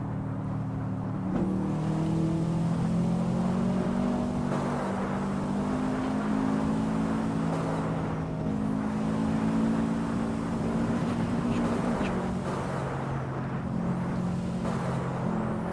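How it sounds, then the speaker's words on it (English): A sports car engine revs loudly and continuously in Assetto Corsa, a racing video game, with rising and falling harmonic sweeps as it accelerates and shifts through gears, steady and close throughout with no talking. "This car sounds so good."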